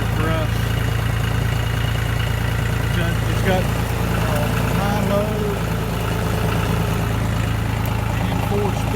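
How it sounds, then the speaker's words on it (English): John Deere tractor idling nearby with a steady, loud low rumble and constant mechanical chatter throughout, while someone talks over it. "This tractor got 736 hours on it."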